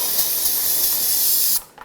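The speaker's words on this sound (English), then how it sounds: "I'll just use some brake parts cleaner." Close, loud hiss of a brake parts cleaner aerosol sprayed onto a 2000-2006 BMW X5's front brake area after hose replacement, one continuous burst lasting about a second and a half before cutting off abruptly.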